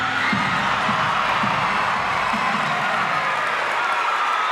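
Dense crowd cheering and shouting at an NC State gymnastics meet, a steady roar with bursts of louder cheers and scattered clapping throughout an indoor arena.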